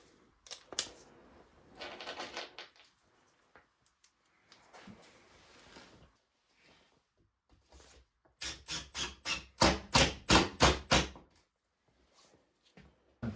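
Screws driven through plywood into a scrap board beneath during a wooden rowboat rebuild, heard as short bursts of drill whir, then a loud run of about eight rapid pulsing surges near the end.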